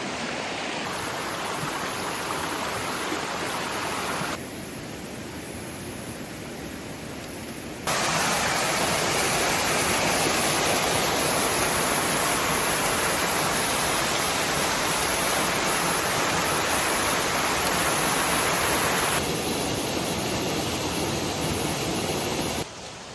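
A creek in the hinterland runs steadily near a small fork in its course, a continuous broadband rush of water whose level shifts slightly as the position changes, with no voices.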